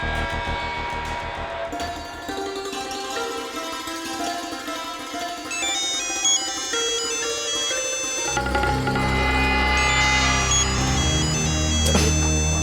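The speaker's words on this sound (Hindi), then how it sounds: "अरे सुकेतु भैया, कुछ तो करो इस फोन का" A phone rings on and on in a tense crime drama scene. The ringtone is a loud, steady electronic melody of repeating tones that grows fuller partway through, with no talking over it.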